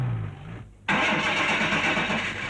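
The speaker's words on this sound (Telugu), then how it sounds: "దీని ఇంజిన్ కి ఏదో జబ్బు చేసినట్టుంది." A car engine strains to start, a brief cranking grind giving way to a loud, steady mechanical roar that continues to the end, with no voices.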